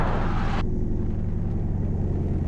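A light aircraft piston engine runs steadily at around 1500 RPM as the propeller is cycled, a loud close droning rumble with a brief brighter hiss at the start that drops away.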